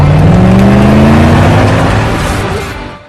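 A car in a Jackie Chan action film speeds through a forest, engine roaring loud and close with a rising, revving pitch that fades away over a few seconds.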